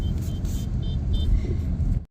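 Road traffic rumbles by in a brief, steady wash of car engines on a wet road near Navsari, India, during rain, before cutting off abruptly.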